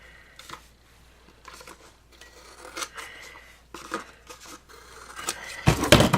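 The edge of a book box piece is trimmed with a series of dry scraping and rasping strokes that grow louder and busier toward the end.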